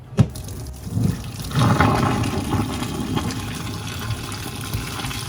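A thump, then a rushing gush of boiling water poured off chitterlings from a pot, settling into a steady pouring wash, fairly loud and close, with no talking.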